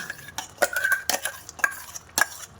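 Utensil clanks and scrapes against a pan as chickpeas and chickpea paste are added and stirred, several sharp knocks over a quiet sizzle.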